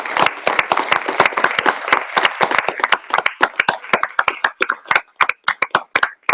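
At an educator-of-the-year ceremony, a small audience applauds Dr. Quinn with sharp, distinct claps close by. The claps come thick and fast at first, then thin out into scattered, uneven hits.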